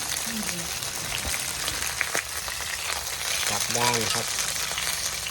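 Meat fries in a pan with a steady sizzle as pieces are flipped, with brief clatters and a louder burst of frying, while someone talks in between.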